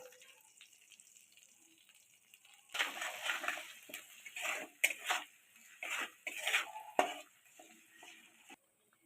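Raw potatoes dropped into spiced oil with pickle in a pan, setting off a sudden hissing, bubbling sizzle that swells and fades in several bursts after a quiet start, then drops away.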